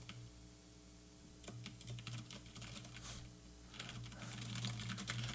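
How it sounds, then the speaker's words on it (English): Someone hammers all the keys of a computer keyboard at once, giving bursts of rapid clatter over a constant low electrical hum and background noise, growing busier toward the end. "I'm just jamming all the keys."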